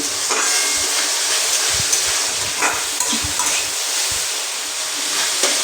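Spice paste with turmeric, chilli powder and chopped tomato frying in a pan, heard as a loud continuous hiss and sizzle broken by a few brief stirring scrapes.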